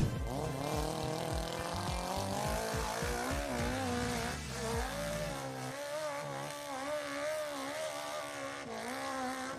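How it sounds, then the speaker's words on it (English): A vehicle engine climbing a near-vertical hill, revving hard with rising and falling pitch as it strains upward, loud and continuous with steady drone, close-sounding and without talk. "This guy has the skill and horsepower to somehow climb a near vertical hill like it's nothing."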